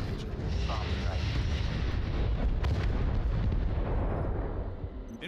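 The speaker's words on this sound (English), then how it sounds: "Bomb strike." Dense, continuous rumbling blasts from a bomb strike in the mech strategy game Crossfire Legion, a loud booming wash that fills the whole stretch, with game voice lines layered over it.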